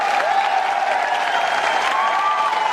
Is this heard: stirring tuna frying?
no